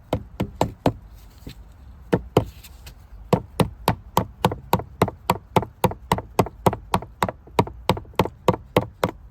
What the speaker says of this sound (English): we're gonna take a rubber mallet and put it on something solid and knock it in